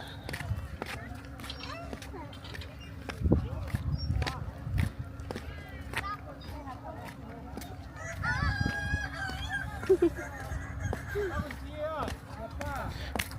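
A Kokok Balenggek rooster crows among background chatter and other birds, with people talking nearby over a steady outdoor hum at a dairy farm in Sirukam, West Sumatra.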